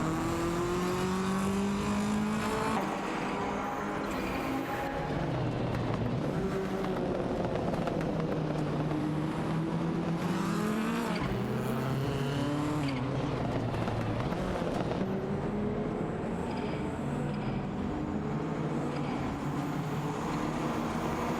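Ford Sierra RS 500 race cars in a video game race roar continuously, engines rising and falling through gear changes as several cars jostle closely, a steady loud drone with shifting pitch throughout.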